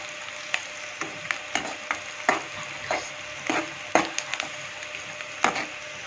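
Onions frying in a pan until golden for a prawn curry, a steady soft sizzle broken by frequent sharp stirring scrapes and clicks close by, with no talk.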